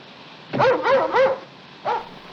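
A dog barks from a film soundtrack, three quick barks in a row and then a single later bark, moderately loud against a quiet background.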